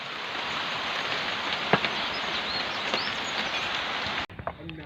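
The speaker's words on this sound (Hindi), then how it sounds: "अभी बहुत ज़्यादा बारिश हो रहा है" Heavy rain pours steadily in a dense, constant wash of noise, with a few louder drips and a brief bird call, before cutting to a quieter scene.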